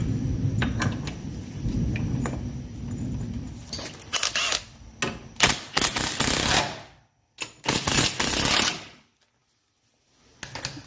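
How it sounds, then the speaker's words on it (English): A torque wrench clicks while bolts are tightened to 60 foot-pounds on the suspension and brakes of a 1984 Mercedes 300SD, heard as sharp close clicks followed by loud ratcheting bursts separated by brief silences. "Mercedes puts blue Loctite on those and torques them to 60 foot-pounds"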